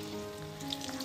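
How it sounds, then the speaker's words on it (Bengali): Eggplant slices frying in leftover oil from frying luchi, a steady, close sizzle filling the whole second with a faint hum beneath and no talking. "লুচি ভাজার তেলেতেই তোমার বেগুনটা ভেজে নিচ্ছি।"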